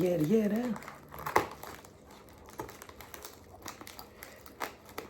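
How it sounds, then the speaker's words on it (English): Plastic crinkles and scissors snip through packaging, with a voice speaking at the start and clicking, crackling handling noises afterward. "Here go my scissors. Let's get right into this. Cut this open."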